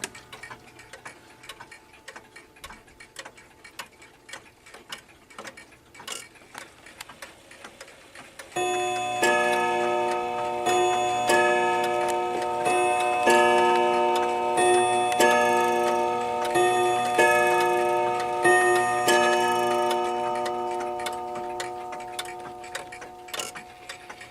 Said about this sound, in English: We have the unknown German Bim Bam wall clock